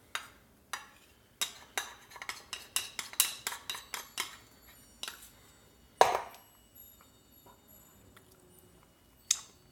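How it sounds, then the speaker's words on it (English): A spoon clinks and scrapes against a bowl as peanut butter is transferred and stirred into protein bar batter. The taps come in a steady, close run and then thin out to a few sparse knocks, with no talking. "We're going to transfer this over to the main bowl at this point."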